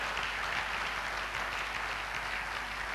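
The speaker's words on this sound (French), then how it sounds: "Acclamez un peu le Seigneur." A church congregation applauds the Lord during a French-language sermon, with steady, dense clapping from many hands filling the room, continuous and fairly loud with no pause.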